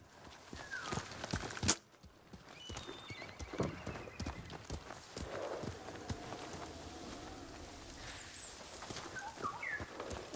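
Horse hooves in the video game Ghost of Tsushima clip-clop at a steady trot, with an occasional horse snort or whinny and scattered bird calls in the background.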